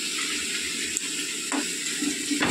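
Potatoes frying in a pan on a home stove, a steady close crackling sizzle with light stirring noises, no voices.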